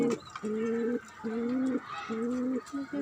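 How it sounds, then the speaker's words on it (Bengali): Pigeons on a rooftop vegetable garden coo in a slow repeating rhythm, four or five low rounded calls in a row, fairly close and clear over faint background ambience. "কবুতর হচ্ছে কবুতর আছে"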